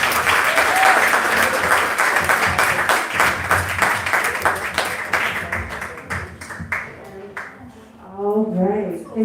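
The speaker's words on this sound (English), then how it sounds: "let's give them one final round of applause" Audience applause at a book launch at Busboys and Poets, a dense crowd clapping steadily for several seconds before thinning into scattered claps, with voices rising near the end.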